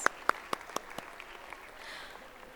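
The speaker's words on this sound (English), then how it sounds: "a big round of applause for all our parents" At a school annual day, a few distinct, fairly quiet handclaps ring out at the start, then fade into a soft, sparse patter with faint background murmur.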